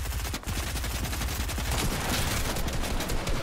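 Rapid gunfire crackles continuously through a Fortnite match, loud and dense from start to finish, with a brief dip early on.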